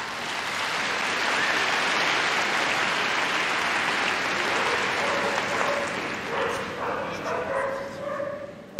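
An indoor arena crowd at the Crufts 2019 show claps in sustained applause for a Staffordshire Bull Terrier display team, with dogs yipping and barking through the noise and a voice speaking as the clapping fades.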